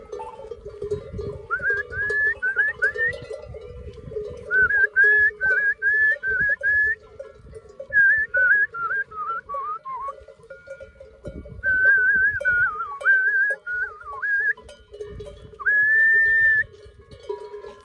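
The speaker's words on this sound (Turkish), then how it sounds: "Bu ıslık çalma da eski bir gelenektir." Melodic whistling to call sheep and goats to drink, in repeated short trills and rising-falling phrases, loud and close, over steady outdoor background noise, with brief pauses between bursts.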